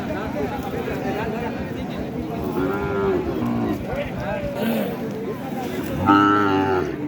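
Calves and cattle moo repeatedly at a busy livestock market in Taherpur, Bagmara, Rajshahi, with several drawn-out lows rising over a steady crowd murmur, the loudest and closest call arriving near the end.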